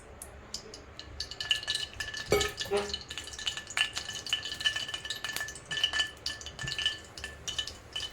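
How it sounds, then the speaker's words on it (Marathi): Fresh coriander being sautéed in a spoonful of oil in a hot kadhai, with crisp clinks of a spoon stirring against the pan over a soft sizzle throughout, one sharper scrape near the middle. "आता आपल्याला ही कोथिंबीर चांगली तेलामध्ये परतून घ्यायचे आहे"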